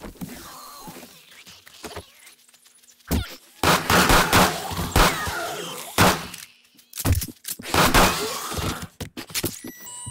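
A gun fires in the 7 Days to Die video game in loud, sharp bursts of several shots each. Between the bursts come short quiet gaps and some cracking impacts.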